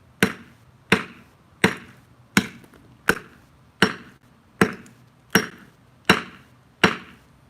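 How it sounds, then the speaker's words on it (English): A hammer strikes a hard Samus Aran Varia Suit statue again and again, nine sharp, evenly spaced, loud blows with short ringing decays and no speech. "It's a pretty legit hammer, and I'm giving quite a bit of effort into breaking it."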